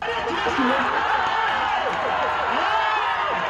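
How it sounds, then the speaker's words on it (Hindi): Spectators at a village wrestling bout (akhara) whistle and clap as wrestlers throw each other, a dense continuous crowd roar with rising and falling whistle tones running steadily throughout. "अखाड़े में पटखनी देते पहलवानों को देख लोग सीटी और तालियां बजाते दिखे।"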